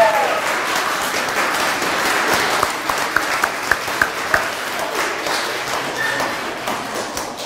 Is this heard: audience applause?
yes